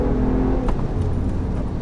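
Muffled engine note of a BMW 1M Coupé heard from inside the cabin, a steady low drone under way with faint clicks on top and no voices.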